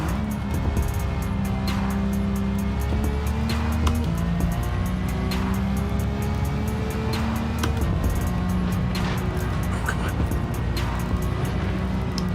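A Nissan GT-R race car in Gran Turismo 7 roars continuously at high revs, the engine note climbing and dropping through rapid gear changes, with faint tire squeal in a steady, loud racing drone.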